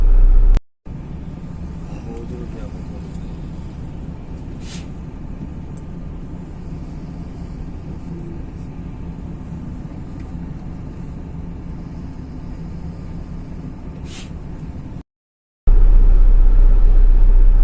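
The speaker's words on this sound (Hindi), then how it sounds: "जब रोड की दूसरी जानिब ट्रैफिक आना शुरू हो गई" Road traffic on the M-2 motorway rumbles past in a steady, continuous drone, with a few faint passing whooshes, heard from nearby with no voices.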